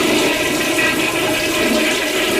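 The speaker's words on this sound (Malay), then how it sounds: "saya terdengar ada orang flush." A toilet flushing in the next cubicle of a public restroom, a loud continuous rush of water heard close and alone, with no voices.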